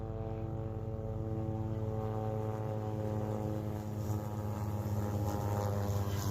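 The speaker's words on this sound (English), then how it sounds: "Helicopter flying up above." A steady, droning helicopter rotor and engine hum with a strong low thrum, constant and fairly loud as it passes overhead along the Tuscarora Trail.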